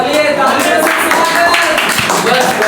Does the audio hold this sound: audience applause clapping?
yes